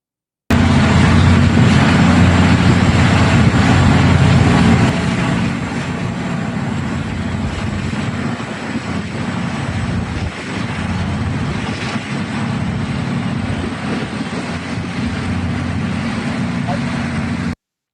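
Data center machinery gives off a loud, constant industrial roar like jet engines on a tarmac, a broad steady rumble throughout, with a drop in level after a few seconds.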